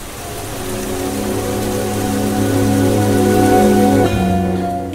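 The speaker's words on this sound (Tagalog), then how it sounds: "Grabiha sa uwan, uy, kakusog ba?" Heavy rain pours down in a steady, dense roar that holds loud and unbroken throughout, close by with no voices.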